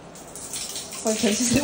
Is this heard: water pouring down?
yes